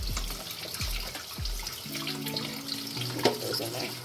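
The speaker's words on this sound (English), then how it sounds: "So you're going to make sure you wash them." Raw chicken pieces washed under a running kitchen tap, water splashing and gurgling into the sink with handling sounds as the pieces are moved about, close and fairly loud.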